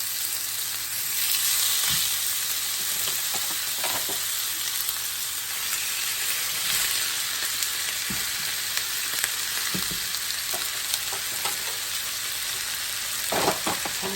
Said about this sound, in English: stick my thawed burgers in here. And as you can hear, there is a nice sizzle